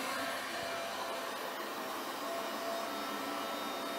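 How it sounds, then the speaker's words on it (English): Heat gun blowing alongside the cooling fans of a 48V inverter system under heavy load, a loud, steady broadband whoosh and whir that holds constant throughout with no talking. "It is quite noisy, obviously, because I've got the heat gun on as well at the same time."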